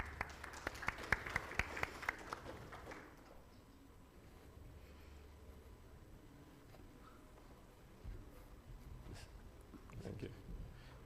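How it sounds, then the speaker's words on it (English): Brief burst of audience clapping at a fintech summit, lasting about three seconds before dying away into quiet room noise with faint rustles. "Round of applause for him as well."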